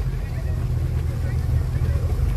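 A 600-horsepower Mercedes engine at a fair burnout contest gives a brief, steady low rumble heard from a distance, with faint voices around it.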